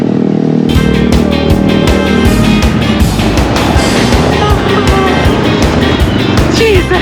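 Loud, steady engine drone of a long-tail boat on a Bangkok river tour, running continuously close by with rhythmic low thumping, while a voice speaks briefly over it.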